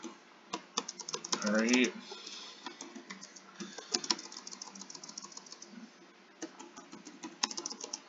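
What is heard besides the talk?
typing keystrokes on a Color Computer keyboard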